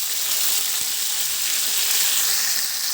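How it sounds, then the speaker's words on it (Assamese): Chicken meat fries in a pan with a loud, continuous hissing sizzle. Faint stirring sounds run under the frying, and no voices are heard. "ইয়াত এতিয়া মই মাংসটো লৰাই দিম।"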